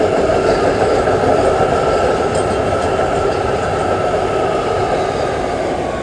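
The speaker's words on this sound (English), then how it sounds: "I'm going to let this train pass" A train rolls steadily past close by, a dense continuous rumble with a bright metallic hiss above it that holds at full loudness for the whole six seconds, with no one talking.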